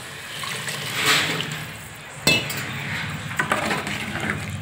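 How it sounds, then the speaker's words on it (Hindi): Water poured into a cooking pot of boiled chickpeas in a home kitchen, with a splashing pour and a clink of metal against the pot, fairly close and steady for a few seconds without talk. "अब हम डालेंगे पानी।"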